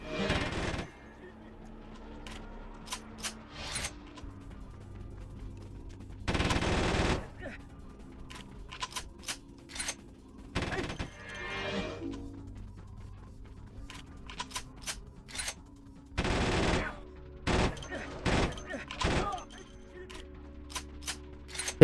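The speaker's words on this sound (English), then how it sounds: "Single shot of high damage, and that's the 50 cal." Heavy .50 cal rifle shots boom out in Vampire: The Masquerade – Bloodlines, single loud cracks spaced irregularly several seconds apart, with quieter game sounds and a talking voice in between.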